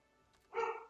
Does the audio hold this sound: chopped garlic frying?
no